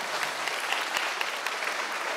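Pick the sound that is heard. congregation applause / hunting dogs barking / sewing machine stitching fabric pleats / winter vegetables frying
congregation applause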